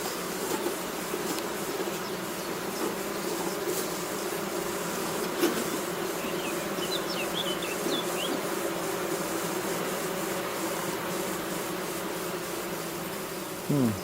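Honeybees hum at an open hive outdoors, a steady dense buzz that fills the scene without pause, with individual bees droning close past the listener now and then.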